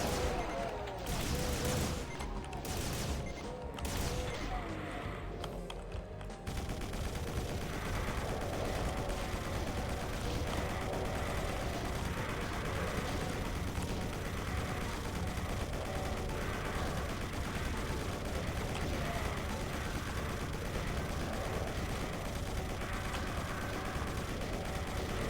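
Rapid, continuous weapon fire from the Spread Fire Plasma gun in the video game Doom, a dense barrage of gunfire-like blasts running steadily throughout amid busy game sound effects, with no talk.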